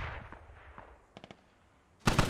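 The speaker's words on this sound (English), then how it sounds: "Dishka now suppressing as well." A DShK heavy machine gun fires in a military video game: a quick triple burst at moderate distance, then a louder, heavier volley right at the end.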